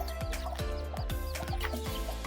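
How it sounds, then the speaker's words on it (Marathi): A village chicken clucks repeatedly in quick, uneven bursts at close range, with a low steady background hum. "अबे कोंबडी आहे इकडं."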